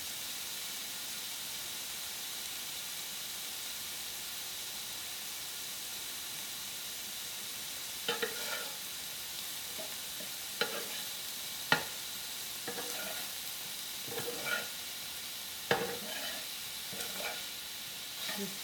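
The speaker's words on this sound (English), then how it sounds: "Just toss it around like you're stir frying." Steady sizzling of pork frying in a pan, with scattered stirring clatters and scrapes in the second half, no talking.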